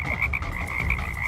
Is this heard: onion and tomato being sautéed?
no